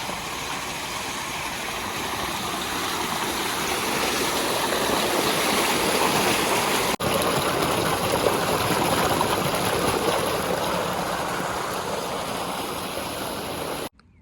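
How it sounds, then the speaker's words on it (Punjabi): Steady, loud rush of water flowing into an irrigation channel in a wheat field, continuous and broadband throughout, with a brief dip midway. "ਆਈ ਜਾਂਦਾ ਪਾਣੀ ਖਾਲ ਭਰਦੇ ਭਰਦੀ ਬੜਾ ਟਾਈਮ ਲੱਗ ਜਾਂਦਾ ਹੈਗਾ"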